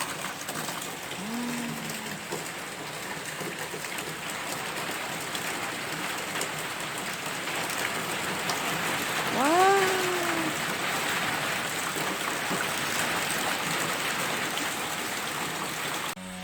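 Heavy rain falls steadily outdoors at a countryside home, a continuous even hiss throughout, with a couple of brief faint tonal chirps partway through.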